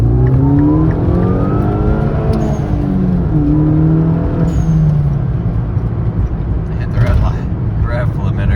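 A widebody Mini Cooper S engine revs and pulls with rising, throaty tones, loud and close, with a voice talking intermittently over the steady engine drone.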